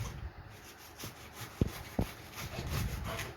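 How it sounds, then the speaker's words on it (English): A knife saws through spring cabbage on a chopping board, producing rhythmic rasping strokes with a couple of sharp taps as the blade meets the board, close and fairly quiet. "I'm going to just cut that one whole, and you can get nice thin shards of this cabbage."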